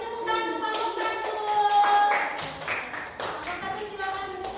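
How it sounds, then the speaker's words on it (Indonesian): A classroom of young students clapping for a group that answered correctly, a patter of children's claps under a sung or chanted tune with voices throughout. "Beri tepuk tangan untuk kelompok 1"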